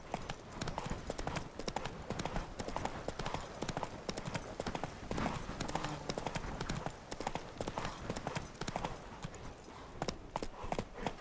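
Galloping horse hooves in The Witcher 3 beat out a fast, continuous clip-clop close up, with a faint voice briefly underneath.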